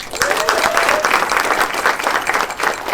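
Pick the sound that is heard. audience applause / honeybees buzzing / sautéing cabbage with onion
audience applause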